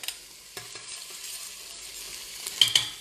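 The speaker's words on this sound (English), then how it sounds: "Immediately I go with the onion and little bit sauteing it." Onion and garlic sauté in a hot pot for Emirati chicken marqoqah, a quiet, even sizzle with a few brief scrapes and taps of a spoon, louder near the end.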